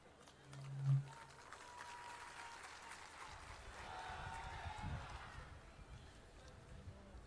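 A large crowd at a Shiv Sena rally roars and cheers, a dense, distant-sounding swell of voices that builds midway and lingers, with a brief low tone near the start.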